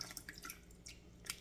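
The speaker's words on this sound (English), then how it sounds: "I want to kind of shake some of the water off" Peeled vegetables shaken over a sink, sending a quick scatter of faint water drips and drops pattering down in a short burst, quiet and close.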